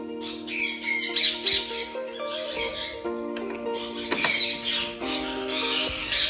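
A pair of white ringneck parakeets squawk sharply and repeatedly in their cage, with loud, close, overlapping harsh calls and no talk.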